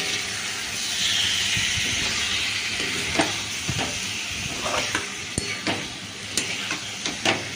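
Boiled potatoes are stirred into masala frying in a pan for a soybean curry. A close, steady sizzle carries repeated spatula scrapes and metallic clinks that grow more frequent toward the end.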